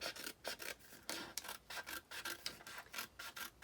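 A hand saw cuts a miter across the wider 2 3/4 side of a board, rasping in steady repeated strokes about twice per second, close and moderately loud, with no voices.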